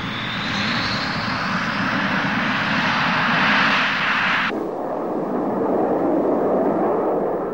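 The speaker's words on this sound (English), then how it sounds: "The R-29-300 engine gives tremendous performance at low level, combined with rugged reliability" A Soviet MiG-27 jet with an R-29-300 engine flies a low-level training mission at dusk, its loud, steady roar sustained throughout, with a rising whine that cuts off abruptly midway and leaves a lower rumble.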